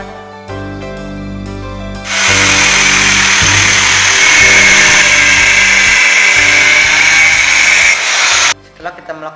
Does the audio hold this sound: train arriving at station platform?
no